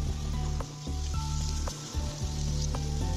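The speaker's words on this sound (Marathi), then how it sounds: "आता हे टोमॅटो आपल्याला भाजून घ्यायचे आहेत" Chopped tomatoes and spice paste fry in hot oil for chicken sukka, producing a loud, continuous sizzle with quick crackles and brief dips as the pan is stirred.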